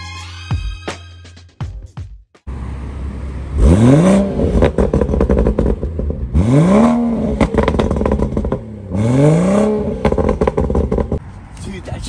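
A BMW car engine running on E85 fuel revs hard three times, each a loud rising surge that falls back to a rough, rumbling idle between bursts, recorded up close.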